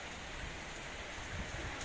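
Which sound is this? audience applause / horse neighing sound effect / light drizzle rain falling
light drizzle rain falling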